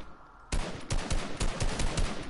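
Rapid assault rifle bursts in Fortnite, a run of sharp, close gunshots firing in quick rhythmic succession after a brief quiet start, loud and unbroken by talk.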